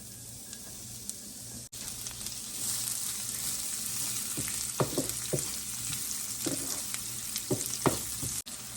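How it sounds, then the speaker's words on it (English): Onions sizzle in melted bacon grease in a hot pan, a continuous close frying hiss broken by occasional sharp pops and spatula scrapes, with no talking. "take some of this bacon fat, let that grease get melted down. Once that gets heated up, throw your onions in."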